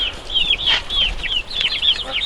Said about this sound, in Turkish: kurk olan tavuğumun civcivlerini çekeceğim size sizlere